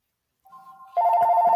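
A phone rings nearby with a clear electronic ringtone, a softer tone starting first and then swelling into a loud, steady ring.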